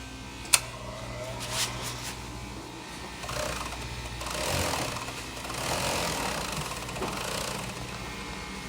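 A Juki serger with a clutch motor, turned and fed by hand, gives a low steady mechanical whir and hum with a sharp click near the start and soft rising and falling pulses of stitching.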